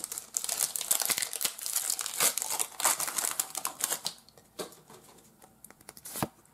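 Crinkling and tearing of foil wrapping as a Pokémon card booster pack is ripped open, a dense run of close, loud rustling that thins to sparse crackles and snaps near the end.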